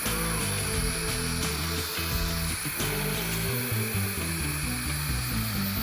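A Makita cordless blower runs steadily and loudly throughout, a constant whooshing roar with a tonal motor whine, used for drying a car after washing, with no talk.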